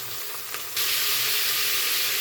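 Jackfruit pieces for biryani drop into hot oil in a pan and set off a sudden loud, steady sizzle that continues evenly, close up with no talking.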